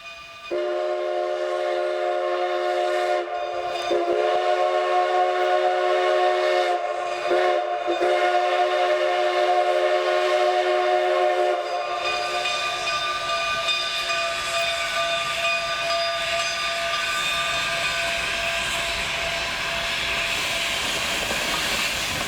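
Cumbres and Toltec steam locomotive 484 sounds a long multi-tone whistle over steady hissing steam, with short breaks in the chime, then the whistle fades into rumbling running noise and hiss as the train works through S-curves.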